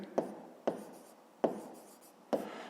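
A pen writes on paper during a fifth-grade maths exercise, giving four short scratchy strokes spaced roughly evenly apart, close and fairly quiet, with no voices.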